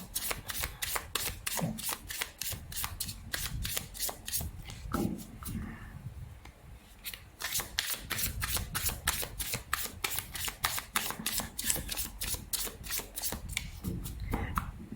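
Tarot cards being shuffled by hand up close, a fast, regular riffling of crisp card snaps repeating in quick bursts, with a short pause midway before the rhythmic shuffling resumes.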